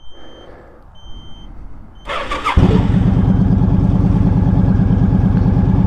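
Motorcycle, a 1300 bike, starting on a dark early morning: a quiet lull and a brief whir of the starter, then the engine catches and settles into a loud, steady, close idle, with no talk.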